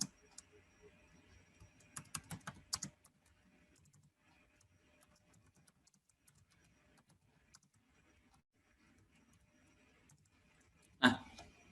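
Typing on a computer keyboard while writing a document in Word: faint scattered key clicks with a dense burst of keystrokes around two to three seconds and a sharp louder click near the end, in a quiet room.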